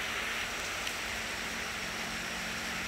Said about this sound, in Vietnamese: Tiếng mưa nó ở trên mái tôn này nó ồn.